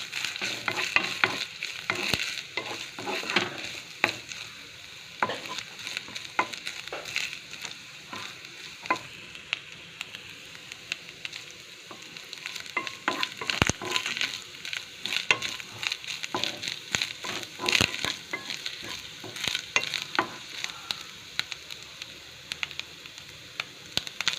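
Grated coconut fries in ghee in a pan while being stirred for Chettinad Rangoon kesari, a continuous close sizzle with scraping stirs and occasional sharper clicks of the utensil against the pan.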